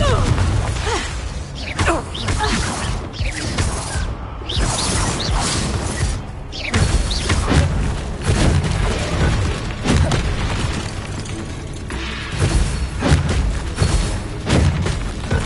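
Confringo blasting spells going off during combat in the video game Hogwarts Legacy, repeated booming blasts with whooshes and crashing debris over a continuous busy mix, loud and close throughout.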